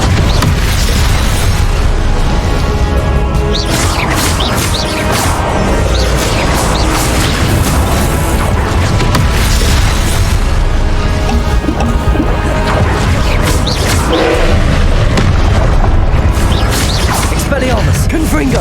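Confringo blasting spells explode repeatedly during Hogwarts Legacy combat, alternating with disarming casts in a loud, unbroken roar of booms and crashes, with voices speaking over it.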